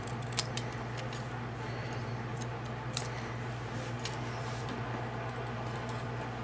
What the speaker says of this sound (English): I'm just going to angle cut the word happy